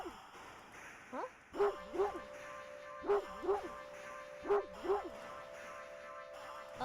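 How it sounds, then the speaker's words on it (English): A dog barks excitedly in three pairs of sharp, yippy barks spaced a second or so apart, close and clear over a steady background hum. "A series of excited barks"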